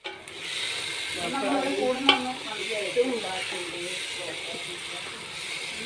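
Tomatoes frying in a pan for Palakkad-style chicken biryani, a steady hissing sizzle with scraping stir strokes and a couple of louder clinks, a voice faintly present.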